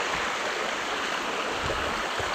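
A river rushes steadily and close by during a riverside walk, with residents crossing it toward rice fields. The water makes a constant broadband roar with no voices.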